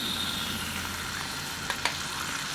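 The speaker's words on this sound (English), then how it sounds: "I'm just going to saute that around for a minute. Mix it in with the existing olive oil." Fermented garlic sautéing in olive oil in a pan, a soft continuous sizzle with a couple of small clicks near the end, steady and close.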